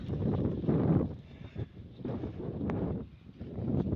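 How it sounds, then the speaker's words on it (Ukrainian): Gusty wind buffets the microphone in uneven rumbling surges, loud and close, with faint rustling between gusts. "Це у нас такий вітер, бачите, зносила таблички"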